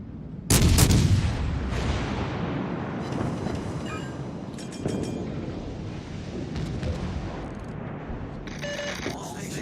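Warship guns firing in World of Warships Legends, a heavy booming blast followed by rumbling echoes and further distant thuds, with game sound effects throughout.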